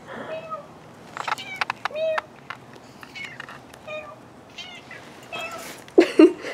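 A cat meows several times in short, bright calls spread across a few seconds, some close and sharp, with people speaking softly between them.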